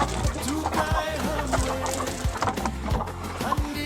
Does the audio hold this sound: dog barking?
no